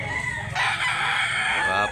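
A one-year-old Talisayon rooster at a chicken market in Consolacion, North Cebu, lets out a single loud, close crow that rises and holds for over a second over a low background murmur.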